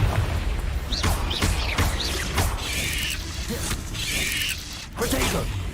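Spells cast in Hogwarts Legacy, including Confringo, burst out as a fast run of sharp cracks and booms, followed by two brighter hissing blasts, with shouted incantations mixed in.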